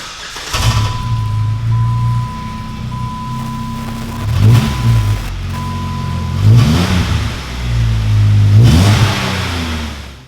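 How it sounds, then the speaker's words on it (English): A Jeep Wrangler fitted with a Borla Climber S-Type 2-1/2-inch cat-back exhaust revs up in three or four loud, close bursts, its deep exhaust note rising and falling over a steady idle. "we got our Borla Climber S-Type catback exhaust installed"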